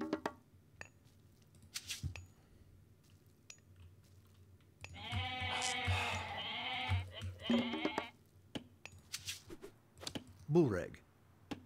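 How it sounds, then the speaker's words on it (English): Goats in a strategy video game bleat in a cluster of loud, wavering cries mid-clip, with a shorter bleat later, amid scattered interface clicks and quiet gaps; someone speaks at moments. "Wow, getting all the goats here."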